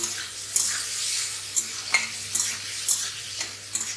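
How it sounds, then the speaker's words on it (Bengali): Prawns sizzle and crackle in a hot pan in a home kitchen, a soft steady fry broken by sharp stirring scrapes and clinks every half second or so. "চিংড়ি মাছগুলো এখানে ভেজে নিচ্ছি"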